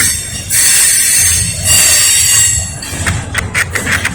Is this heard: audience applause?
no